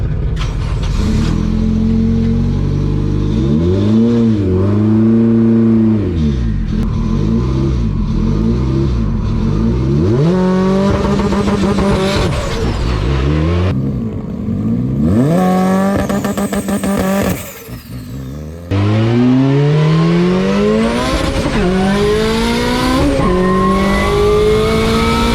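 A drag car launches with the two-step launch control set at 6,000 RPM, its engine roaring loud and close, revving through rising gear sweeps with brief shift breaks as it accelerates hard down the track.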